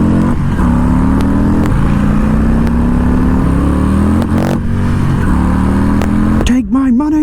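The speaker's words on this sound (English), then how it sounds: "I'm getting to ride a Harley Lowrider S for the first time" A Harley-Davidson Lowrider S motorcycle with a Stage 2 kit idles and revs loudly and steadily up close, its engine note rising and falling throughout, ending in a sharp throttle blip.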